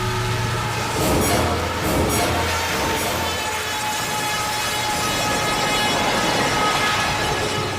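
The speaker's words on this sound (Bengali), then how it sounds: "ট্রেনের আওয়াজ আসছে কিন্তু কিন্তু ট্রেনকে দেখা যাচ্ছে না" A train rumbles past with a loud, steady roar of wheels on rails and rattling wagons, continuous and fairly close for several seconds, with no talk.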